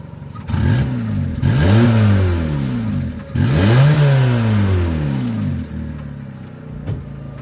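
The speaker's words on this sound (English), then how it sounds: "You're gonna give it a rev." A Ford Ka engine with a repaired exhaust revs hard twice in close succession, each rev climbing and falling, loud and near, with a slight blowing note and idle in between and no talk.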